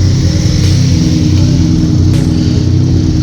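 A car engine idles steadily with a low, throbbing exhaust rumble, close and continuous throughout with no talking.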